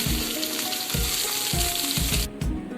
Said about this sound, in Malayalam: ഈ എണ്ണ നന്നായി ചൂടായതിന് ശേഷം നമ്മൾ ഇപ്പം തയ്യാറാക്കി വെച്ചിരിക്കുന്ന കൈപ്പയ്ക്ക ഇട്ടിട്ട് ഒന്ന് ഫ്രൈ ചെയ്തെടുക്കാം.